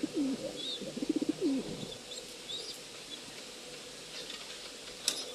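Pigeons of a Jansen racing line coo nearby in a loft, giving a soft run of rhythmic, repeated coos at the start, with a few faint chirps and light rustling afterward.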